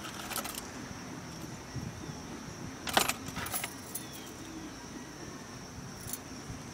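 Car keys jangle and clink in short bursts inside a parked car, faint and close against a quiet hiss, with one louder rattle partway through.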